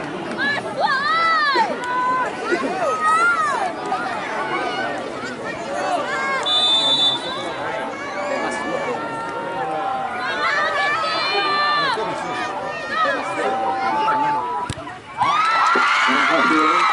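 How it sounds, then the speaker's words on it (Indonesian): Home supporters at a local youth football cup match, under a loud, continuous mix of crowd cheers, shouts and children's voices, with a commentator talking over it throughout and a sudden loud burst near the end. "Febri disambut dengan gemuruh tepuk tangan, memberikan spirit dan aplaus oleh pendukung dari tim tuan rumah"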